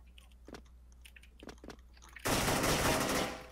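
Rapid automatic gunfire in an online shooter match, breaking out loud and sustained after a few scattered sharp clicks and knocks in the game.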